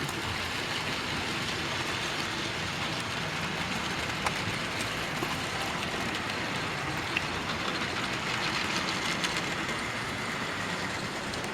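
Model railway train running on a loft layout, a steady, fairly quiet rolling rumble and hiss that carries on evenly throughout, with a couple of faint clicks along the way.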